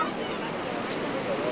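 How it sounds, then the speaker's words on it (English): A waterfall cascading out from a reservoir, heard as a short, steady broadband rush of falling water at moderate distance. "This is where the waterfall comes out from."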